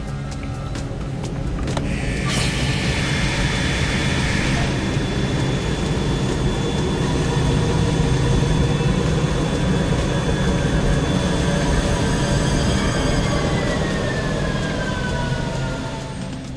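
Jet engine running steadily at 35% power during a water ingestion test, a loud continuous roar with whining tones that holds unbroken for the full stretch, no voices heard.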